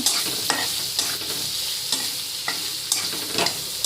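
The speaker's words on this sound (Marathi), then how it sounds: "तेलामध्ये परतून घ्यायचे।" Something sautéing in hot oil in a pan hisses steadily while a utensil scrapes and stirs in sharp strokes about every half second, close and fairly loud, with no voices.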